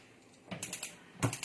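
A gas stove under a kadai of oil is switched on in a home kitchen, a few sharp, close mechanical clicks in two short bursts against a quiet background.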